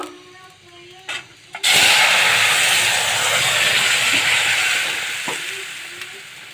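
Pointed gourd curry vegetables dropped into hot soybean oil with dried chillies and mustard, a sudden loud sizzle that bursts out after a few clatters and keeps up a steady frying hiss.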